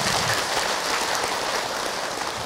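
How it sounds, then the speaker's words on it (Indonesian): Audience at an Islamic religious lecture applauds, a dense continuous patter of many hands clapping at moderate loudness, heard alone without talk. "Tepuk tangan Bu untuk Ahilman."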